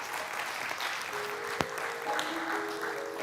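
A congregation at a livestreamed service claps steadily for a speaker, a moderate wash of applause with one sharp knock partway through.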